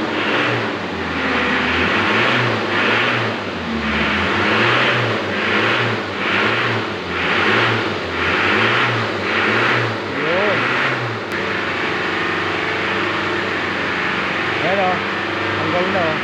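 A 2009 Mitsubishi Pajero engine cycles through repeated rhythmic revs over a steady idle, loud and close, before settling back to idle near the end.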